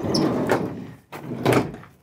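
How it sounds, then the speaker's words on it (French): Sliding side door of a van being opened and shut, a close rolling scrape followed by a thud, then a second rolling slide, loud and clear with no talking. "t'as la porte latérale, ça c'est pratique"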